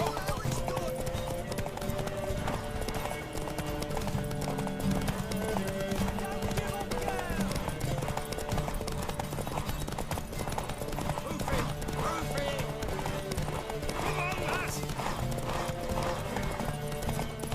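Steady clip-clop of horse hooves in The Witcher 3 video game runs throughout, with music and voices layered over it in a busy, game-like mix.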